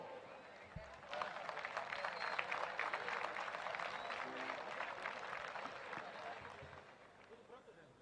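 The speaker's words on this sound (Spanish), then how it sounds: "vamos a recibir con cariño y con aplauso Jaime Ribeiro." A festival audience applauds at the National Chamamé Festival in Corrientes, Argentina, a dense wash of clapping that swells after the first second and holds steady before thinning near the end, with voices mixed in.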